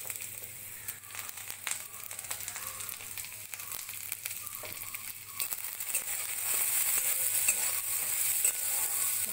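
Carrots and beans fry in hot ghee with a soft, crackling sizzle that starts moderately and grows steadier and louder toward the end, with faint stirring rustles and no voices.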